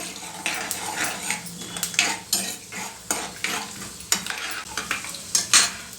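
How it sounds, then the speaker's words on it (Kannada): Chana dal, peanuts and cumin fry in a pan for curry leaf rice. A close, rhythmic scrape of a spoon stirring over a sizzle comes in repeated bursts, with no talking. "ಸ್ವಲ್ಪ ಕಡಲೆಬೇಳೆ ಕಡಲೆಕಾಯಿ ಬೀಜ ಇದೆಲ್ಲ ಸ್ವಲ್ಪ ಫ್ರೈ ಆಗಬೇಕು"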